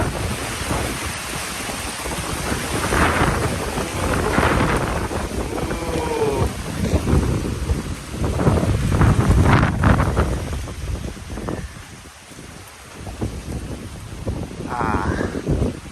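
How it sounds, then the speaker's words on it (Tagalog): Strong gusty typhoon wind on a farm buffets the microphone in rising and falling surges, with a voice talking intermittently beneath the roar. "Pabugso-bugso yung hangin."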